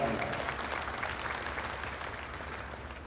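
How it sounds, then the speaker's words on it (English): Crowd applause around the ring at a Jersey cow show, a steady, moderately distant patter of many hands in a large hall, even and unbroken, with a low rumble underneath. "let's give a great round of applause to these young cows out here in the Jersey ring"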